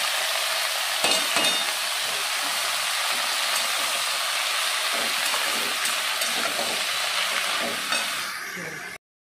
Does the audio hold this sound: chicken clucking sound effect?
no